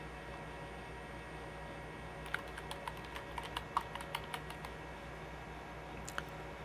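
A computer keyboard is tapped in a quick, light run of keystrokes about halfway through, faint against a low background hum, then a single late click.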